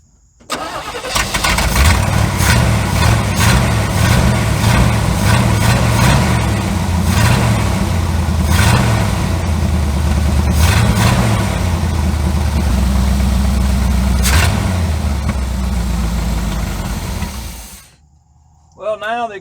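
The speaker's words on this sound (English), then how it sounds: "When I fire it up, buddy, she revs." An old 1972 Chevrolet C30 truck engine cranks and fires, then revs up and down in repeated surges for a long stretch before cutting off abruptly.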